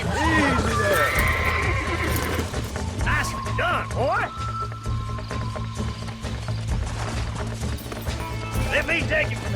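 Horses in Red Dead Redemption whinny loudly with rising and falling neighs over steady clip-clop hooves on a farm, while a voice talks over the action throughout.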